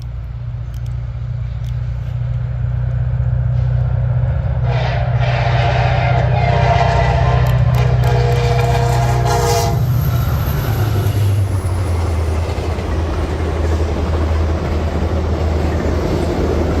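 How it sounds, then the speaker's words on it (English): CSX P001 freight train rounding a bend and racing west, its horn sounding loudly in long blasts over the heavy rumble of the passing cars, which fades into trailing wheel noise. "we see CSX P001 rounding the bend and racing west, giving us and some rail fans there that gathered a nice horn show"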